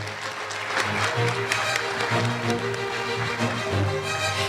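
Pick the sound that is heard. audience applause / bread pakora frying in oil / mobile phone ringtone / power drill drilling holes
audience applause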